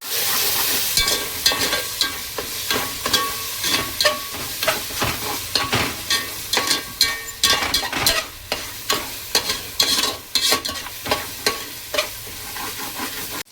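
Rice being stir-fried with a little tomato ketchup and leftover masala in a pan, steady sizzling punctuated by repeated scraping strokes of a spatula in an uneven rhythm, close and loud, no voices.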